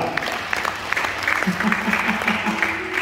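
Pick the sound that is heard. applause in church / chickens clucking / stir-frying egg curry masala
applause in church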